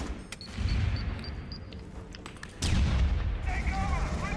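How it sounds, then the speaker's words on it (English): A grenade blast and gunfire in the video game Aliens: Colonial Marines: bursts of shots and a heavy rumbling explosion that swells midway, loud and close, followed by sustained battle noise. "look at that explosion grenade"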